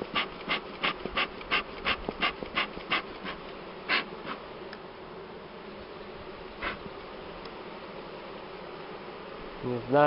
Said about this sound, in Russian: загоняю дымом пчел